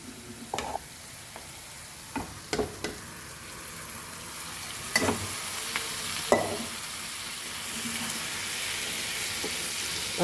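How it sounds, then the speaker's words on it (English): Mutton sizzling as it fries in masala for a Goan mutton xacuti, a steady close hiss of frying with occasional sharp scrapes and clanks of a spoon stirring the pan. "And we'll add our mutton to this and let the mutton get cooked in this masala."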